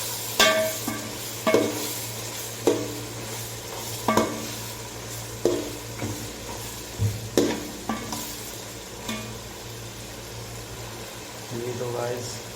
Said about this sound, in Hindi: थोड़ा हम चिकन को भून लेते हैं।